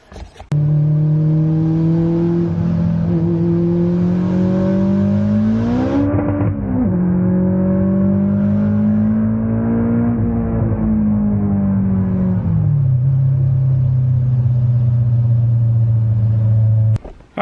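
A Mazdaspeed3 car pulls away on a test pass, its engine rising and holding a strong, steady drone that shifts pitch mid-run and then settles back, loud and close throughout with no talking.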